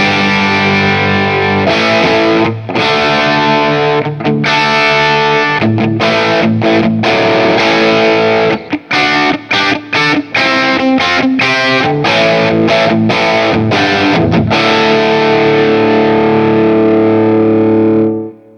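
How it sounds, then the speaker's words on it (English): Squier Stratocaster electric guitar with a Lambertones grinder pickup, played through heavy distortion: loud, dense chords with brief choppy gaps and a sustained ringing chord at the end, no voices. "That Lambertones grinder pickup sounds really good."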